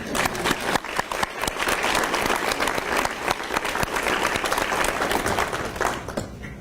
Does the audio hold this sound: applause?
yes